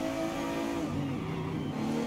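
A V12 car engine in Forza Horizon 5 revs high and whines loudly and steadily, pitch shifting slightly down then climbing again, close and continuous with no talking.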